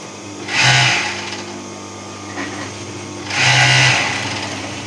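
A sewing machine stitching a small collar layer, two short bursts of fast needle whirring about three seconds apart, close and clear with quieter hum between.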